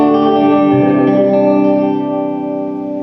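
An electric guitar at the Shark Guitars factory in Turkey rings out through a reverb pedal with the dry signal mixed in, a loud sustained chord swelling and then slowly decaying in a wash of echo, with no talking.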